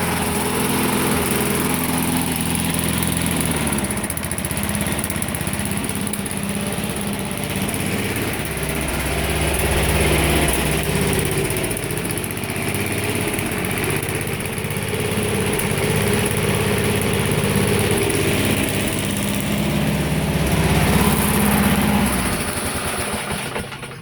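A 1980 lawn mower engine runs steadily for the whole stretch, a loud, close, buzzing drone with a slight waver in pitch and no talking.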